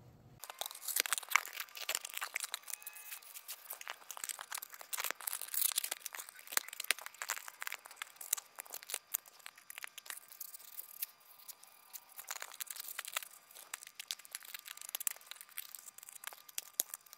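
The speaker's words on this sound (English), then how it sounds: "I'm gonna cut this out now." A homemade head gasket for a Snapper engine being cut out by hand, giving a steady run of soft crunching and tearing snips up close, with no talk.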